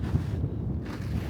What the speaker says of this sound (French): Là, il y a un vent de malade.